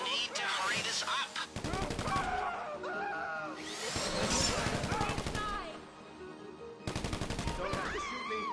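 Automatic gunfire in a console game rattles out in rapid bursts, with sharp shots broken by short pauses and one final burst, while characters speak over the shooting.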